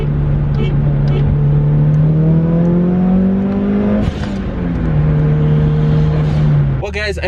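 A 400 whp Mitsubishi Lancer Evo 8 accelerating hard, the engine note climbing steadily through a gear, dipping at a shift and rising again, loud and close from inside the car before it abruptly stops.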